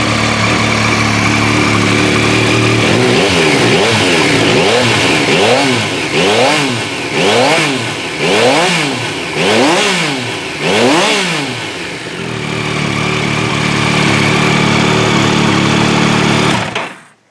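A 2021 Yamaha MT-09 motorcycle with its triple-cylinder engine runs close by, holding a steady idle, then blipping the throttle in about six rhythmic revs before settling back to idle and cutting off.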